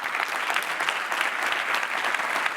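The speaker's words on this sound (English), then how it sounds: "Let's give them a round of applause." Audience applause at a conference welcome session, a dense steady wash of many hands clapping that holds at an even level from start to finish, with no voices above it.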